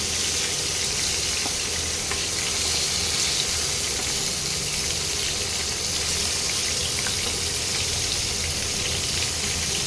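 Prawns fry in a pan of hot oil for a tomato prawn dish, giving a steady, close, hissing sizzle that holds evenly throughout without a break.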